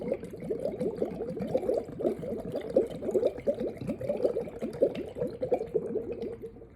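Breath blown through water in a bottle, a continuous bubbling gurgle of rapid, dense pops that holds steady for several seconds, close and moderately loud, with no talking.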